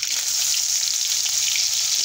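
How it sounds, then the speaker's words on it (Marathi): Mustard seeds splutter in hot oil for a masala pav tempering, a loud, close, continuous crackling sizzle with dense popping and no voices. "मोहरी मस्त तडतडत आहे"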